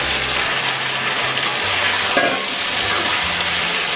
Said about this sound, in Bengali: কপি আলুগুলো ভাজা ছিল, ওইগুলো আমি সব ছেড়ে দিচ্ছি।